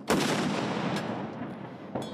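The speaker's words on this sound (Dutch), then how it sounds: "Buiten klinkt een eresaluut met kanonschoten" Cannon shots of an honour salute boom at the 2022 state funeral of Shinzo Abe in Japan. A loud blast with a long rolling echo is followed by a fainter report and then another sharp shot.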